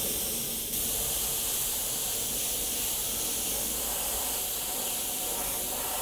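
An airbrush sprays fluoro green paint in a continuous loud, even hiss that runs from start to finish without pause.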